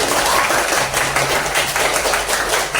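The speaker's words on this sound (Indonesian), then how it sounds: "Luar biasa, tepuk tangan dulu." A school class claps together in a dense, steady burst of applause that holds at an even level throughout.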